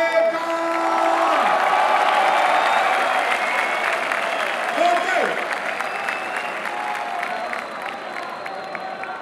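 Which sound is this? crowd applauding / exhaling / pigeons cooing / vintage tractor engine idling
crowd applauding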